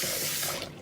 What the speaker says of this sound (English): I'm adding cold water at the same time.